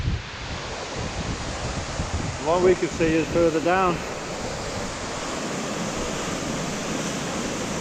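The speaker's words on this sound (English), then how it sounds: "That's a higher waterfall again." Steady rushing roar of a tall waterfall deep in the limestone gorge of Gordale Scar, with wind gusting across the microphone. Someone speaks briefly partway through.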